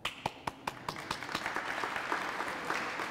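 Applause at an arts exhibition awards ceremony, opening with a few sharp, separate claps that quickly swell into a dense, steady round of clapping from the gathered audience.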